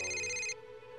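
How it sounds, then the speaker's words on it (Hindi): A mobile phone ringtone sounds inside a library, a loud bright electronic melody for about half a second before cutting off into quiet room tone. "इस फोन को बंद करो"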